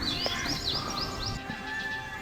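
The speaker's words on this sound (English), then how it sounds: "This is again the sparrow." A sparrow near its nest in a Goa jungle gives a series of quick, bright chirps, fairly close and repeated in short bursts over soft background ambience, with no one talking.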